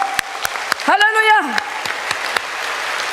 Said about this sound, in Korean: 이럴 때 박수하는 거예요, 이럴 때.